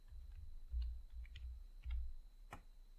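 Quiet, close keystrokes on a computer keyboard while entering JavaScript code, a short irregular burst of clicks with one sharper tap near the end.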